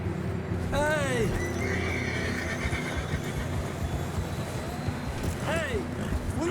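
A horse neighs loudly twice, several seconds apart, in the game Red Dead Redemption 2, over constant clip-clopping hooves and rumbling background, with voices talking throughout.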